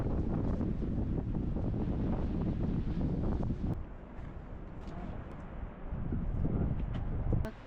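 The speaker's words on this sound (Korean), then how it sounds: "근데 우와 바람이 엄청 불어." Strong wind buffeting the microphone at Yellowstone National Park, a loud steady roar that dips briefly midway before surging back.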